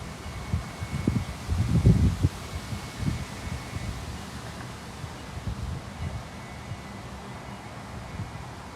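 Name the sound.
wind blowing outdoors at a pickleball match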